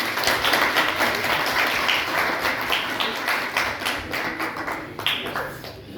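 A crowd claps steadily and fairly loudly throughout, with no talking.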